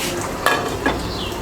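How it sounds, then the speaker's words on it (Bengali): Yogurt gravy with pointed gourd bubbling in a pan, a steady close simmer with soft pops and two brief clinks or stirs partway through. "এই দেখুন ঝোলটা আমার ফুটে উঠেছে"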